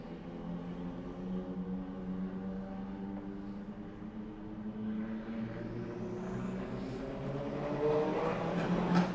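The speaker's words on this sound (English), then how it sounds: "Somebody with a loud car." A loud car or motorcycle passes outside, its engine drone steady and building toward the end as it draws nearer, with no talk over it.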